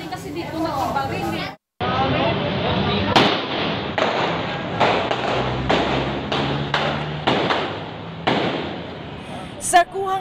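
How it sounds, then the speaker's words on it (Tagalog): Gunfire from a mall shootout outside a fast food restaurant: a rapid series of loud, sharp bangs cracking one after another, with voices heard among them. "Sa kuhang ito sa labas ng fast food restaurant, sunod-sunod na ang naging putukan."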